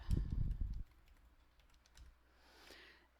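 Fingers tap a computer keyboard while typing a file name, a quick cluster of close keystrokes followed by a few lighter scattered taps in a quiet room.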